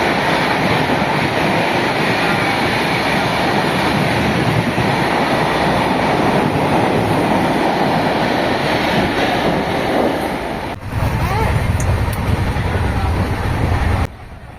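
A passenger train pulls into the station on the Kokrajhar to Bhojo route with a loud, sustained rolling roar of wheels and cars. The roar drops away abruptly near the end, leaving a lower rumble.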